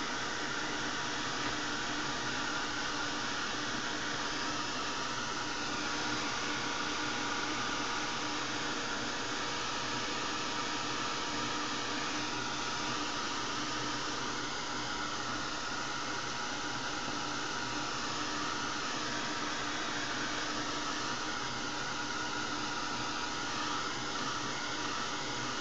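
A hair dryer blowing steadily over wet blue paint on a canvas, a loud, close, unbroken whooshing roar with no talk.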